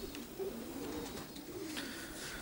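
Pigeons coo softly inside a loft, with several low, throaty, rolling calls overlapping at close range against a quiet background.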